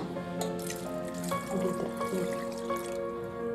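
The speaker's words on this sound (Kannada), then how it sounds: "ಅದಕ್ಕೆ ನೀರು ಹಾಕ್ಕೊಳ್ಳೋಣ" Water runs steadily from a tap, splashing and ringing as it fills a vessel for raw mango panaka, with a rising tone and no talking.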